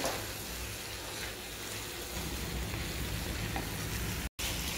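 Fried paneer cubes being stirred into a sizzling gravy for shahi matar paneer, giving a steady close-up hiss and bubbling with a brief scrape of stirring and a sudden cut near the end.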